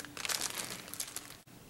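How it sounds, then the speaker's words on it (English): A plastic bag crinkles close by as peeled seeds are handled, a short run of dry rustling crackles that thins out and stops, quiet and with no voices. "I'm going to go ahead and probably put them in this plastic bag right here."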